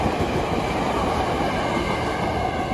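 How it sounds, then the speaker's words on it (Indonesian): A KRL commuter train rolls steadily past a railway level crossing, its loud continuous rumble and rail clatter filling the air close by without letup. "satu kereta sudah melintas"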